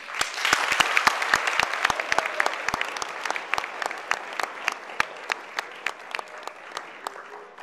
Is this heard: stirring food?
no